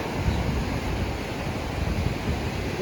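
Ocean surf and wind at Kalinge beach in Goa, a steady broadband wash of breaking waves with gusty wind rumble across the microphone, continuous and fairly loud with no distinct individual wave crashes.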